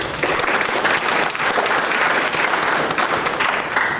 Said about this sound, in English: we just want to give you a round of applause and say thank you so much for what you do for us